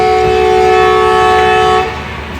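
Awam Express passenger train in Pakistan sounding its horn, one loud sustained multi-tone blast close by lasting about two seconds before cutting off to a lower rumble.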